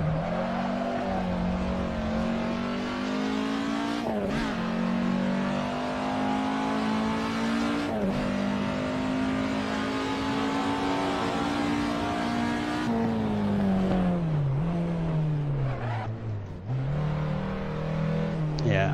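Race cars roar around a track in a racing video game, a steady close engine drone whose pitch climbs and dips with revving and gear changes, with brief drops where the engines ease off before pulling again.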